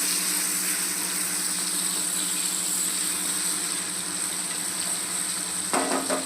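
Potato and cabbage sabzi sizzles steadily in a pan, a continuous close frying hiss with faint stirring and a small clatter near the end.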